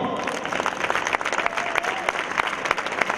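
Lively applause from a concert audience for a music band at its first performance after lockdown, many close hand claps rattling unevenly, with some crowd voices underneath.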